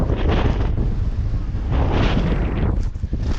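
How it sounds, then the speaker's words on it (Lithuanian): Strong wind roars and buffets steadily, a loud rushing gust that swells and eases without pause. "vėjas užkyla, eina paklon"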